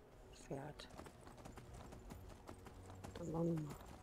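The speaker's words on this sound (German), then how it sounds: "Okay. Pferd." A horse's hooves clop at a steady rhythm in the video game Skyrim, heard moderately close under faint game audio. Someone speaks briefly twice over it.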